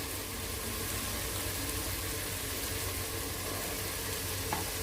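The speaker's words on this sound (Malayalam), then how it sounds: "നമുക്കിതിനകത്തോട്ട് ഇനി തക്കാളി അരച്ചത് ചേർത്ത് കൊടുക്കാം" Ground tomato paste going into a pan of sautéed mixed vegetables for a Karnataka-style vegetable bath, setting off a steady, dense sizzle that holds for the whole stretch with no talking.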